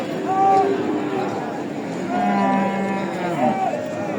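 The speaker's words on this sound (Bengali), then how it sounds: "ষাঁড় বাচ্চা" Young Sahiwal bull calves bawling and mooing, several drawn-out calls close by, with a murmur of people in the background at a cattle market.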